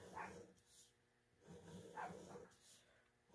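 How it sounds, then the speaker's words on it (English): A dog barks a few times in the background, faint and distant, with short bursts spread across a quiet room. "Sorry about the dog barking in the background."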